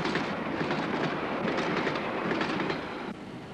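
An aluminium-bodied train runs steadily along the rails with a continuous rumble and faint clickety-clack, moderately distant and unbroken, easing slightly toward the end.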